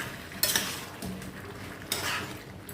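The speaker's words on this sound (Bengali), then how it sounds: "আলুগুলোকেও চিকেনের সাথে ভালো করে নেড়ে চেড়ে মিশিয়ে নেব।" A spoon stirs fried potatoes into chicken kosha in a pan, making a few clattering scrapes and clinks against the metal in short bursts, close and clear, with a faint sizzle underneath.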